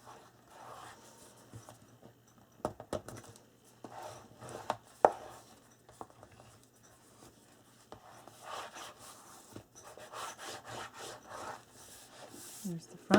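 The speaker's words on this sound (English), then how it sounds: "We're going to burnish this down." Paper being burnished down by hand onto a flip folio, giving soft rubbing and scraping strokes in irregular bursts with a few sharper taps, close and fairly quiet throughout.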